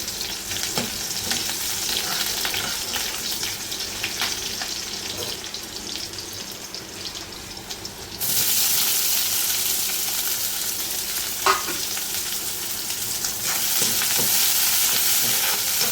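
Garlic and chili crackle and sizzle steadily in hot oil for the whole stretch, growing noticeably louder and brighter partway through as the frying intensifies, with occasional stirring scrapes and no voices.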